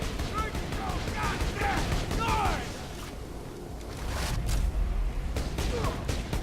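In a Borderlands-style boss fight against Captain Flynt, an explosive rifle fires as a rapid series of sharp bursts, with blasts and clattering effects at the end and a voice talking over much of it.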